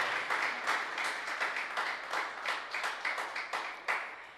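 A church congregation claps in welcome during a service, fairly quiet applause with a pulsing, almost rhythmic beat that continues throughout.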